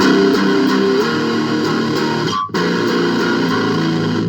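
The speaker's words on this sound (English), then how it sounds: "Here's the sound of the amp, something simple." Electric guitar, an ESP Snakebyte, played clean through a small Marshall MG10 amp, steady chords ringing out with a brief dropout midway, close and fairly loud.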